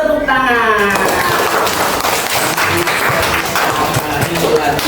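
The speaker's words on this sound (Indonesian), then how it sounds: "Kita tepuk tangan." Classroom students clap their hands together in a loud, dense burst that runs several seconds, with a voice speaking briefly at the start.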